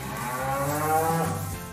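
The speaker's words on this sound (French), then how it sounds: "c'est l'heure de la tétée des veaux" Cows and calves low in a barn at feeding time, a continuous drawn-out moo with overlapping calls, fairly close and steady, with no talking.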